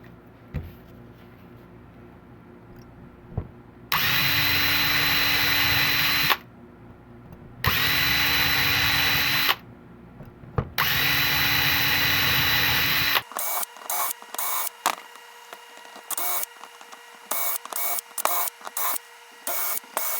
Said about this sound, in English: use the existing holes as guide bushings and drill with a handheld drill